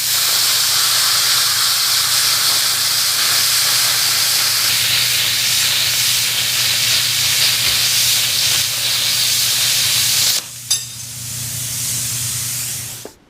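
A plasma cutter slices through 1/4 inch by 2 inch steel angle iron for coffee table legs, giving a loud, steady hiss that runs unbroken for about ten seconds before cutting off abruptly, then a short burst of air and a fading hiss.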